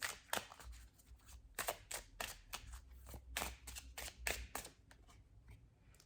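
Romance angel cards being shuffled by hand, a close series of quick riffling and slapping bursts repeating at an uneven rhythm with no talking.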